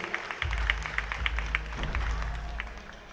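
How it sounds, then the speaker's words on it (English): Audience applause for two officials at a Greater Houston Area girls basketball all-star game, a dense, steady patter of many hands clapping that swells in and holds for about three seconds before tapering slightly. "If you'll give them a round of applause, please."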